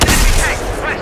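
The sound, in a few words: rifle shot in a video game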